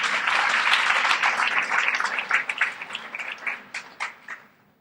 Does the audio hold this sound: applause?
yes